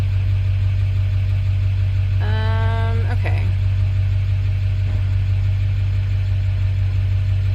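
A very loud truck idles in a parking lot in Phoenix, a heavy steady low rumble running throughout, close by and constant, while a person briefly speaks over it.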